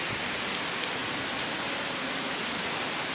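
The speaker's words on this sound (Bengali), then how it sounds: "দেখছি এখন খুব জোর বৃষ্টি পড়েছে" Heavy rain pours steadily outdoors near a house, a dense, even hiss of countless drops striking surfaces with no pauses and no voices.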